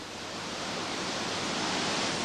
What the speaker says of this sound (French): En quelques minutes, Louvèze est entrée en crue.